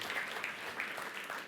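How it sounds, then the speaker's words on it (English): Conference audience applauding a startup founder taking the stage, a soft, distant, even wash of clapping that stays faint and steady with no speech over it. "Round of applause"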